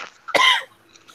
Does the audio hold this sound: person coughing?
yes